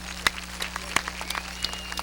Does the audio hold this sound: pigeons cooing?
no